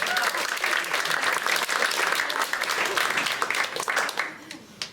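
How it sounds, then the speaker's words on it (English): A comedy show audience bursts into loud, sustained applause with a few cheers mixed in, then it tapers off toward the end. "Round of applause for the young lady."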